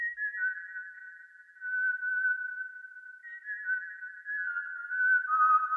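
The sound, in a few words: Omnisphere psychopathic whistle synth preset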